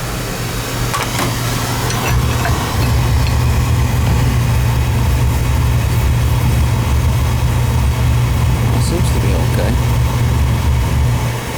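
A Beckett oil burner runs with a loud, steady low mechanical hum and hiss, continuous throughout, while people talk nearby.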